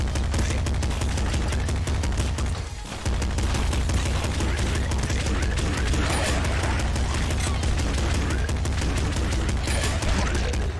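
Rapid, continuous gunfire from the video game Nuclear Throne as a boss is shot through a narrow gap, a dense, loud barrage with one brief dip before the firing resumes.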